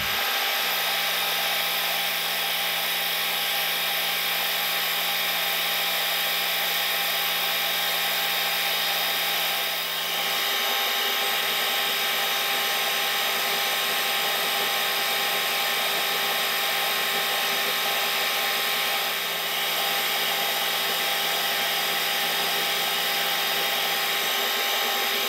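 Power tool slowly and gently gnawing through a stainless steel bolt, a loud continuous high grinding whine that holds steady for the whole stretch with only brief dips, no voices.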